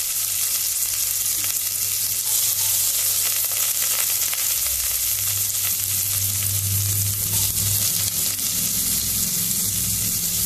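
Garlic and onion fry in half a spoon of oil for a Goan fish curry, producing a loud, continuous sizzle under a steady low hum from the stove, with no talking.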